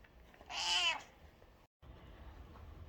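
A cat gives one clear, close meow during a veterinary nursing demonstration of an emergency abdominal bandage wrap, followed by a brief silence and low room noise.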